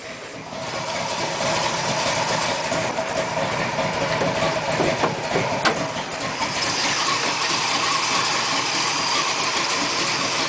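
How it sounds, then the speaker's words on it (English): A big block V8 engine runs steadily after a cold start, a loud, continuous rumbling idle that holds throughout with no voices. "There's the motor running."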